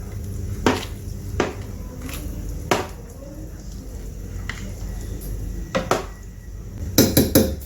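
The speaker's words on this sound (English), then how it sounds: "Now stir very well with your cooking spoon." A cooking spoon stirring oha soup in a pot, with sharp scattered clanks and knocks of metal against the pot over a low background rumble, close and moderately loud.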